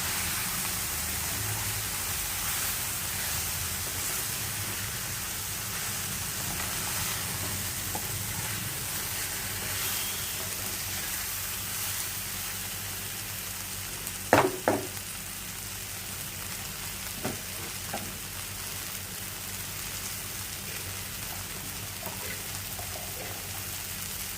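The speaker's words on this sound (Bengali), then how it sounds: "সেমাইগুলোকে দিয়ে দিলাম। এটা বেশি ভাজতে হবে না, এটা রোস্টেড। একটু নাড়াচাড়া করে দিচ্ছি।" Roasted vermicelli being stirred and fried in a pan, a soft continuous sizzle with a few brief clinks from stirring partway through.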